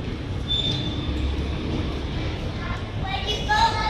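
A Hong Kong MTR train at a station, with a low rumbling drone and faint high wheel squeals and hums close by, under an indistinct murmur of voices.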